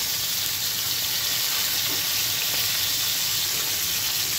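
Ingredients for a braised homemade pigeon curry frying lightly in a pan, a steady broadband sizzle that holds at an even level throughout with no voices.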